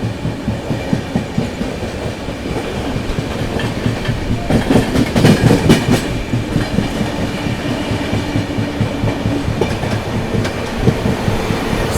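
The 15658 Brahmaputra Mail runs through Etawah Junction without stopping, a steady close rumble with rapid rhythmic clickety-clack of wheels over rail joints, swelling louder in the middle as it crosses points.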